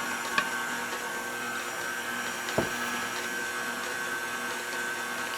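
A mixer runs through thick vegan, gluten-free dark chocolate brownie batter, working in the dry ingredients with a steady, even whir. Two faint knocks interrupt it near the start and in the middle.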